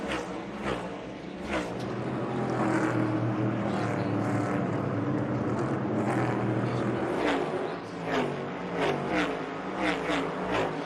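NASCAR Cup Series stock car engines racing at North Wilkesboro, a heavy roar that swells and fades as cars pass, with several sharper pass-bys toward the end, no talk over it.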